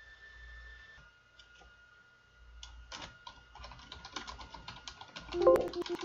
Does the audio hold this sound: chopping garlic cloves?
no